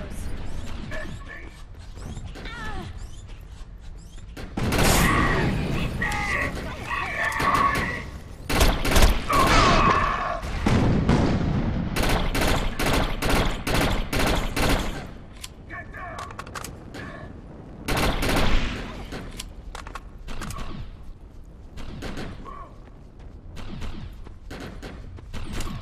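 Gunfire in the Defiance video game as bangos are shot, with loud bursts of rapid weapon fire in several volleys, mechanical clatter between them and people talking over the action.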